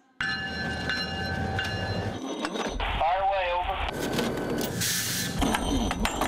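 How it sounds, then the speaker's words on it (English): Railroad cars creak and rumble through a sub-zero rail yard, their grease and bearings stiff from the cold, with a loud continuous grinding roar and a brief wavering squeal in the middle. "The rail yard sounds like a sub-zero symphony."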